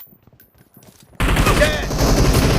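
S12K shotgun fire in a video game: quiet faint clicks, then a sudden loud blast that cuts in and continues as dense, sustained gunfire to the end.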